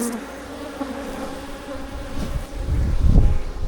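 Honey bees buzzing around a hive and a clustered ball of bees, a close, continuous drone that swells louder toward the end, with faint wind noise.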